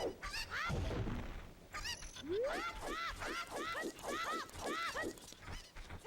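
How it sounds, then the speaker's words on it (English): Chickens in The Legend of Zelda: Ocarina of Time cluck in a rapid string of sharp, chirpy calls, with a brief thump and rattle near the start. "we have to collect all of the chickens here"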